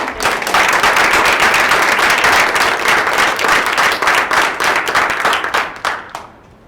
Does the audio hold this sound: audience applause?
yes